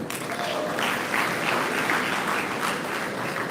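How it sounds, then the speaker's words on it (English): Audience applause fills the hall at a university convocation ceremony, a sustained, even wash of many hands clapping that carries on steadily for several seconds. "Please clap for them."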